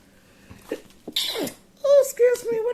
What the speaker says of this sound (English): I didn't have to sneeze.